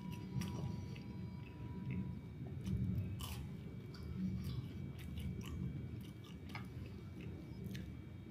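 Crunchy crust of a creamy cheese tart with a hint of lemon, bitten and chewed close to the mouth, with steady soft crunching and a few sharper crackles and no talking.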